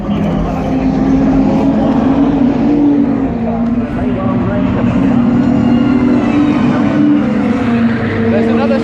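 A supercharged race car passes at Donington circuit with a loud, sustained engine drone and a shifting harmonic tone, heard from near the pit wall with some talk in the background.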